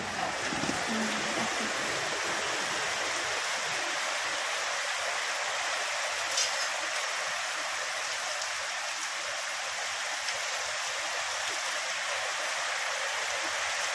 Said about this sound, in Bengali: একটু জানলাটা খুলে ভালো করে দেখাচ্ছি কত জোরে বৃষ্টি হচ্ছে গো